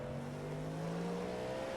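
Cadillac V-Series.R prototype race car engine in the iRacing sim at Road Atlanta, a steady sustained engine drone with a slowly rising pitch as it pulls through a gear, heard alone at moderate level.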